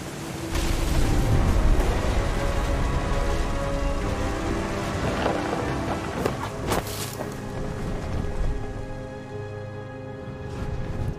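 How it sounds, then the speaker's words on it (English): Steady rain with rumbling thunder in What Remains of Edith Finch, a constant wash of downpour across the whole stretch and a few sharper cracks of thunder partway through. "The thunder sounded much too close and full of angry power."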